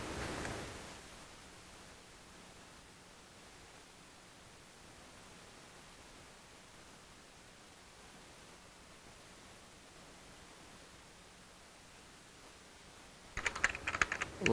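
Faint computer keyboard typing sits under a steady background hiss, and a short cluster of sharper keystrokes comes right at the end.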